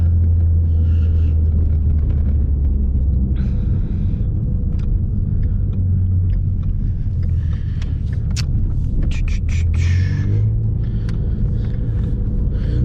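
An automatic Ford Mustang drives along with a loud, steady cabin rumble, the engine note rising and dropping as gears shift on their own, with light rattles over the drone.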